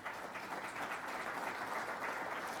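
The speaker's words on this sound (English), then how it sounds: "Please, a round of applause for all of them and our thanks." Applause for Central Bank executives at a Toyota Blue Grass post position draw, a steady patter of clapping from a moderate-sized audience, faint and continuous throughout.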